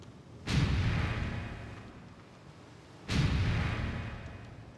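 Rune Cannon blasts in the video game Suikoden V: two heavy booming shots a few seconds apart, each a sudden loud burst that rumbles and slowly fades, with no talking.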